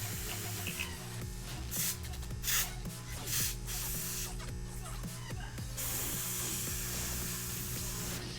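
An airbrush sprays transparent black paint thinned with flow improver onto a Space Wolves Contemptor Dreadnought miniature, soft hissing bursts over a low steady compressor hum.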